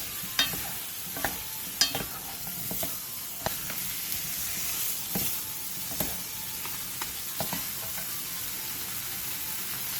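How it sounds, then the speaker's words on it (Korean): Potatoes and meat stir-fry over high heat in a pan, a steady close sizzle punctuated by repeated sharp scrapes and taps of a utensil stirring the food. "그 다음 감자를 넣고 고기의 겉면이 어느 정도 익을 때까지 센 불에서 계속 볶아주세요"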